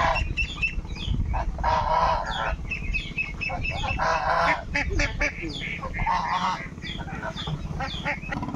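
Ducks on a farm quack and honk in a busy chorus close by, with repeated overlapping calls and clucking from other fowl mixed in.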